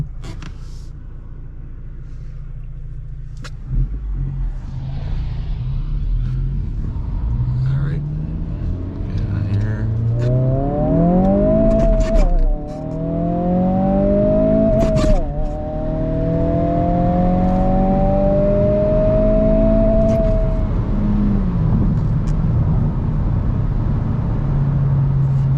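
A 2022 Honda Civic Si running a Stage 1 tune pulls hard through first, second and third gears from inside the cabin, the engine note rising steeply with each gear and dropping at each shift under a low rumble, with a voice speaking at times.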